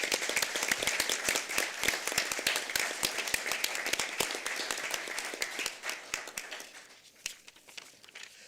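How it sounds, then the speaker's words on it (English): Attendees at a prison and school district board meeting give a round of applause, crisp dense clapping from a sizeable group that holds strong and then thins out toward the end. "Let's give them another big round of applause."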